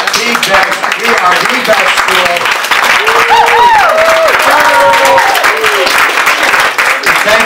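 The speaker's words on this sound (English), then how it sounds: "Could everybody just get up and give each other a round of applause?" Guests at a culinary arts program exit dinner give a loud round of applause, clapping close and dense while people cheer and talk over it, with a brief sung or shouted voice rising through the middle.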